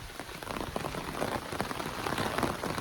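Rain falling on the Appalachian Trail, a steady dense patter of drops striking nearby surfaces, close and continuous with no voices.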